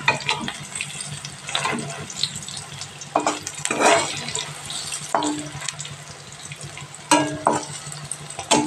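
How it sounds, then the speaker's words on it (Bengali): Malabar spinach fritters, made with chopped leaves, sizzle steadily in hot oil, with louder bursts of crackling and scraping as they are turned over in the pan. "এই পিঠটা ভাজা করে নিতে হবে।"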